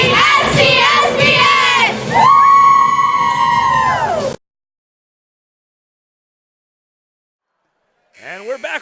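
A fun crowd and cheer squad roar and shout at a high school boys basketball game in the Everett High School gym. Loud, dense chanting and yelling fills the first few seconds, then cuts to silence before a brief sound returns at the end.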